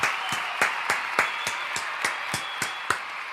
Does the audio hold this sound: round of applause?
yes